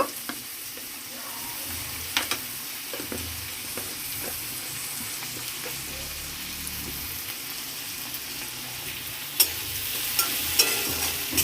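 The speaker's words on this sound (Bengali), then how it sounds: "এই দেখো তেল বেশি করাইছে এইবার দিলাম টমেটো পেঁয়াজ কুচি কাঁচা লঙ্কা কুচি" Chopped tomato, onion and green chili fry in plenty of hot oil, giving a steady close sizzle with scattered scraping stirs and a few sharper clicks toward the end.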